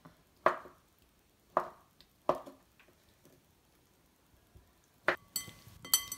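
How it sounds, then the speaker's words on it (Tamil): Knife chopping halloumi cheese into small cubes on a board, a few separate crisp cuts spaced apart, with clinking near the end. "நம்ம இதை வந்து நம்ம சின்ன க்யூப்ஸாக கட் பண்ணிக்கலாம்"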